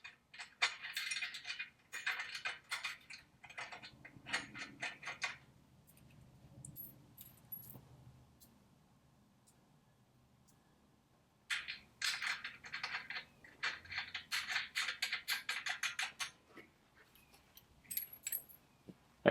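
Nuts are threaded onto a GY6 scooter motor mount. Bright metallic clinks and small rattles come in quick clusters, with a quieter pause of faint handling in between.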